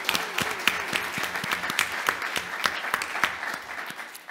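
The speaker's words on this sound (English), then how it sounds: "So I think a big round of applause to Susanna." An audience at a seminar applauds, a dense, steady round of hand claps from a room full of people that gradually fades toward the end.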